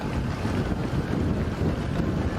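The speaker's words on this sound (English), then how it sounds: "you can see that wind. It's tough out there" Strong gusting wind buffets the microphone at the outdoor Valencia Marathon, a loud, dense low roar that rumbles continuously without pause.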